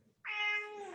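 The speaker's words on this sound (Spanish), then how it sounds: "Gato." A cat gives a single clear, close meow that rises sharply and then trails off slowly, heard alone with no talking.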